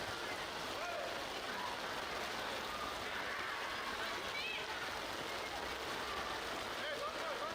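Steady rain hisses across a football pitch during a semi-final match, a constant wash of noise under a commentator's voice.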